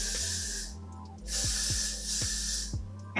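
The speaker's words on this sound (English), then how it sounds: "I'm gonna spray it with a little more" Three hissing bursts of super-hold liquid mousse spritz sprayed onto a drawstring ponytail, each lasting under a second, close and fairly loud, with short pauses between them.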